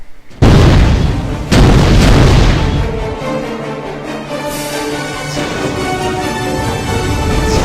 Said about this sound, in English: a fully charged legendary BFG Devastator shot, which leaves a lasting explosion on the point of impact.